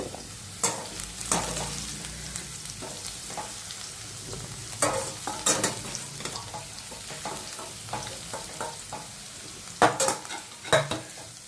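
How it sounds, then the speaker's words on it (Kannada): Sliced bitter gourd frying in oil for a palya, with a steady close sizzle and irregular stirring scrapes and clinks of a utensil against the pan throughout. "ಹಾಗಲಕಾಯಿ ಸ್ವಲ್ಪ ಚೆನ್ನಾಗಿ ಫ್ರೈ ಆಗಲಿ"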